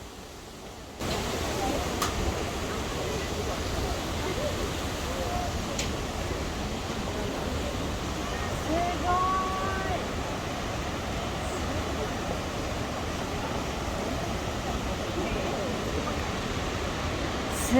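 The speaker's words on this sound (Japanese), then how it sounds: "そこには華厳の滝がありました" Kegon Falls roars as a dense, continuous wash of falling water, broad and steady from start to finish, with no voices.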